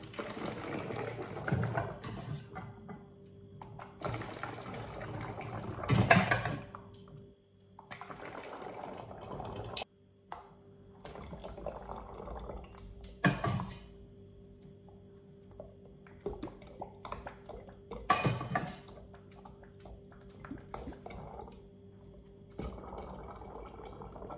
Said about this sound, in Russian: наливаю в бутылочку